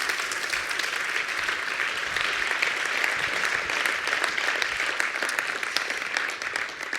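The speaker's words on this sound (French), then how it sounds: "Vous pouvez applaudir Sophia de Meyer." A crowd applauds at an evening launch event for a hub. The clapping is dense and continuous, holding at an even level for about seven seconds.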